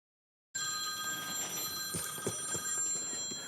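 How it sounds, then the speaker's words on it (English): A telephone rings steadily during a Tree Advisory Commission meeting, its repeating bell tones fairly loud over a faint room background, with no one speaking. "You can answer your phone."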